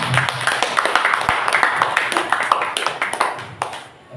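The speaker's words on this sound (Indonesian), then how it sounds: "Bapak dan Ibu, tepuk tangan dulu untuk Bu Mariati." An audience at an education programme event claps in appreciation of a speaker, a burst of scattered, fairly close hand claps lasting a few seconds before tapering off.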